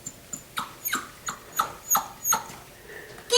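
A puppy being handled during a temperament test lets out a series of short, high-pitched squeals and yelps, roughly evenly spaced, close and fairly loud, with no talk over them.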